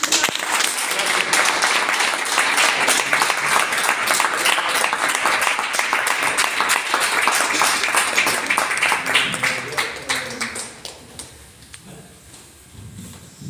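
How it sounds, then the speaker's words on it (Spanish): Dense audience applause fills the room at a CD presentation and homage for Alfredo González Vilela, steady and loud for about ten seconds before thinning out and fading to scattered claps. "aplausos para él"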